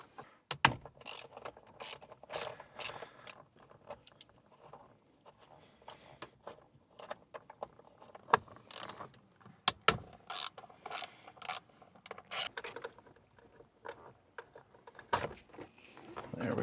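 A ratchet on a T27 Torx bit backs screws out of a steering wheel on a 3rd generation 4Runner, producing close bursts of rapid clicking separated by quieter pauses and small handling knocks.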